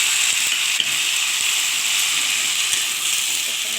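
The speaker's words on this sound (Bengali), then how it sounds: "বাঁধাকপিটা দেখুন বন্ধুরা আমার এটা মোটামুটি ভাজা ভাজা হয়ে এসেছে" Shredded cabbage fries in a pan with a continuous, even hiss of sizzling oil, moderately quiet and unbroken, with a few faint stirring clicks.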